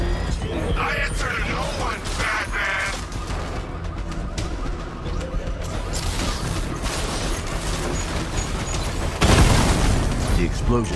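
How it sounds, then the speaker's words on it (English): Combat in Batman: Arkham Knight during the Cloudburst tank fight, with heavy booms, mechanical clanks and creaks, and a loud explosive blast near the end, layered under dramatic character dialogue. "The explosion disabled the main cannon."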